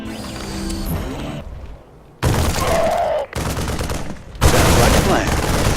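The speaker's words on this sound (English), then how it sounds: "They're shooting civilians!" Video-game gunfire from StarCraft 2: Wings of Liberty on Mar Sara comes as loud, sustained machine-gun bursts with mechanical clatter. The bursts are broken by short gaps and a sudden near-silence.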